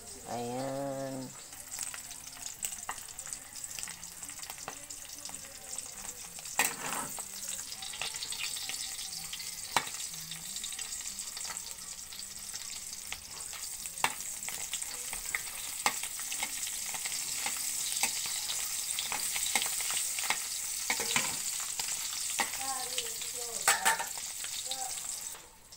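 Egg and smoked fish (tinapa) frying in a pan at a home breakfast, a steady close sizzle that runs throughout with occasional clinks and stirring scrapes, and brief voices near the start and end.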